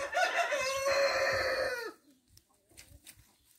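A Jersey Giant rooster crows loudly and close by in one long drawn-out call, followed by softer scattered clucking from Jersey Giant hens.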